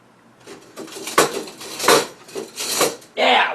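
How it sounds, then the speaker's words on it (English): Metal kitchen utensils clink and clatter in a handful of separate loud rattling bursts as a whisk is grabbed from among them, close up with no talking. "Now we're going to grab a whisk."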